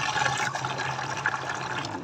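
Tap water running steadily into a plastic dipper, a continuous close rushing and splashing fill at moderate volume with no talking.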